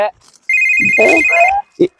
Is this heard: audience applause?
no